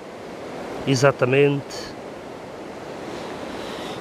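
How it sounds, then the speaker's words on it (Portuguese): Strong wind roaring steadily outdoors near trees and a waterfall, a broad constant rush heard close to the microphone, with a short spoken word briefly over it. "Olhem a ventaca que está."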